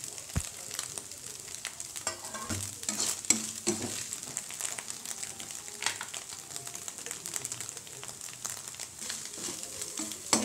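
A spoon scrapes and stirs egg rice in a frying pan, with irregular clinks and scrapes over a soft background sizzle, close and moderately quiet.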